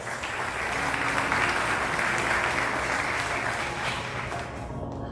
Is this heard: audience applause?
yes